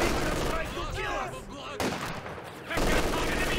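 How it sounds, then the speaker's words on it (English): MG42 machine gun bursts in a World War II strategy video game match, rapid ripping fire in short bursts separated by brief gaps, mixed with other battlefield gunfire and effects. "Nice fire from the MG42, otherwise known as a certain dictator's buzzsaw."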